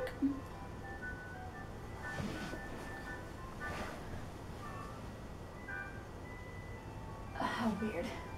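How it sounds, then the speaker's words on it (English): Ice cream truck passing by with its tinny jingle faint and distant, melody notes swelling briefly near the end over steady wind-like background noise. "Ice cream truck just went by."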